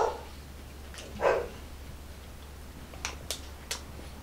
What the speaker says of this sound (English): Sorry, dog's barking right now.